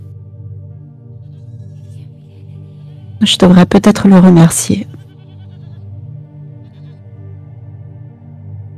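Goats give a short, wavering bleat lasting about a second and a half, set against steady background music, with a voice speaking nearby.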